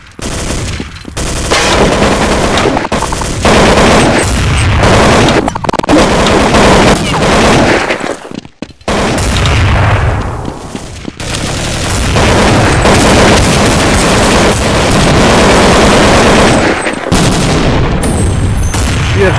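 Rapid automatic gunfire and explosions from a Counter-Strike 1.6 match, loud and nearly continuous with a brief lull midway, with voices talking over the battle.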